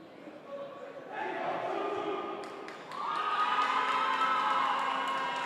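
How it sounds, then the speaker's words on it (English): Fans roar in the stands at a Mexico versus United States foam dodgeball final at Universidad La Salle in Mexico, a broad crowd swell that rises twice, with sharp ball thumps and a voice talking over it. "You can probably hear the roar of the stands."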